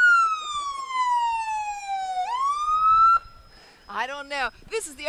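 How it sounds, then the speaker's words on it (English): Siren on the Okaloosa County Sheriff's Explorers truck at a Christmas parade: a long falling wail that dips, swoops back up and cuts off, followed by short honking electronic blasts against quieter background. "Is that Ted Pico running that siren that way?"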